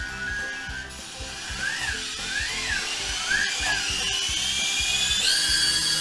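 An Owleez toy flying owl with its propellers spinning, a high electric whir that keeps rising and falling in pitch over a clicking mechanical buzz, close and steady throughout.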